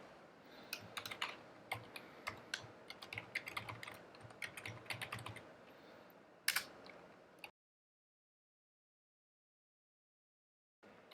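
Keystrokes clatter on a computer keyboard as code is typed, a fast uneven run of close clicks for about seven seconds, then silence with one faint tap near the end.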